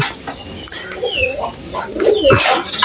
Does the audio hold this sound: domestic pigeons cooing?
yes